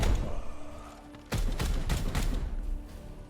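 Suppressing fire in a Warhammer 40K game boarding mission: after a quieter stretch, a sudden string of heavy rapid gunshots thuds out in quick repeated bursts, fairly close and steady.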